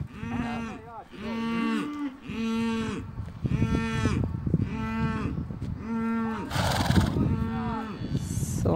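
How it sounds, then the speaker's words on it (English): Several cows moo repeatedly and loudly, one after another, as the herd follows a herder across a riverside meadow; a brief higher call and scattered rustling mix in between the lowing. "He is calling and going in front, and the cows are following."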